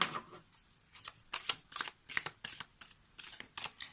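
A deck of tarot cards is shuffled and cut in a run of crisp, riffling bursts, each followed by a short pause. The sound is close and fairly quiet, with no speech.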